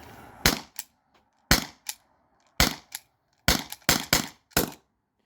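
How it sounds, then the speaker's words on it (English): An HDP50 Gen 2 air pistol fires nylon balls in six sharp, close cracks spaced irregularly over a few seconds, with short quiet gaps between them. "All right, you guys, 6 more shots."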